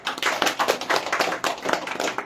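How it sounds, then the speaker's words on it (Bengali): An audience at a football team's new jersey launch event claps their hands in a short burst of close, brisk, uneven clapping. "একটু হাততালি দেবেন সবাই।"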